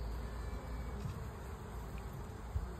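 Bumblebee and honeybees buzz at the entrance of a honeybee hive, a faint, continuous droning hum under quiet outdoor background noise.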